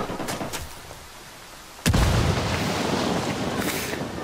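Gunfire erupts in the Tom Clancy's Ghost Recon: Wildlands video game, a sudden loud burst that opens into sustained shooting and rumbling booms after a quieter stretch with a few faint earlier shots.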